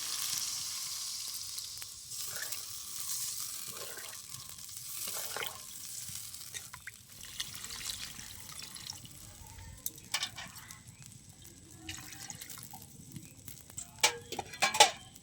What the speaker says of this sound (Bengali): এবার আমি এতে পরিমাণ মতো জল দিয়ে দেবো, দিচ্ছি জল